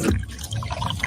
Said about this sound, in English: Try and taste with your ears. Hear those bubbles? Imagine them tingling on your tongue. Fizzy deliciousness.